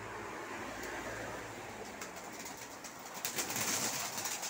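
Colour-tailed Dagestan pigeons cooing in a loft, a steady murmur of soft overlapping coos and wing rustles, with no talk.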